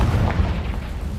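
A Confringo explosion spell cast in Hogwarts Legacy, a dense, loud, low rumbling blast that fills the whole moment with steady booming energy and no voices.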